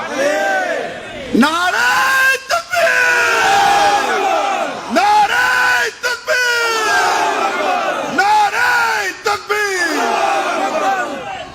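A large crowd at a Bangladesh Nationalist Party rally in Rangunia chants the takbir slogan in loud, repeated unison bursts, each call rising and falling, with brief gaps between the rounds.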